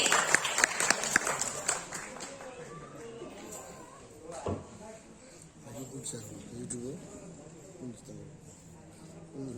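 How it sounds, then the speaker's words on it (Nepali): An audience at the Box Office International Music Award 2079 ceremony claps for an award recipient. A short burst of clapping opens the clip, then a voice talks over a sound system. "उहाँलाई पनि जोरदार तालीले स्वागत गरौँ साथीहरु"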